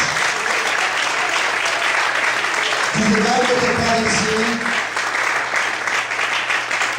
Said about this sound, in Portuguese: Você pode aplaudir e exaltar ao Senhor nessa noite.